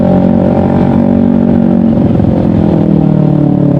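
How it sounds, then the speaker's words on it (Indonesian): Kawasaki Ninja 250 FI with a loud Pro Liner exhaust, engine droning at high revs close by, then the pitch shifts and the throttle eases off partway through. "Baru sekarang gue pakai knalpot yang bacot kayak gini."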